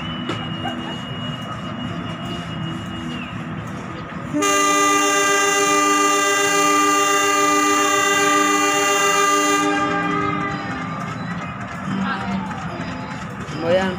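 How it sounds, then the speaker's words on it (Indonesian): A train horn blares long and loud for several seconds over rumbling rail noise as a local passenger train departs Garut station, Indonesia, with voices and station bustle around it. "Ini kereta api lokal Garut Cibatuan segera diberangkatkan ya, sudah diizinkan untuk berangkat dari stasiun Garut ya"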